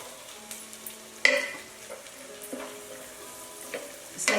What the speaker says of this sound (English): And now I'm going to add the celery.